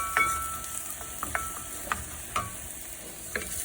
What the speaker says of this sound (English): Make sure you go ahead and use the back of the spoon to keep any little bits of onion from sticking right there.